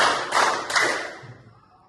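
A classroom of students claps together twice in quick succession during a counting clap game, crisp unified bursts that fade into a quiet room.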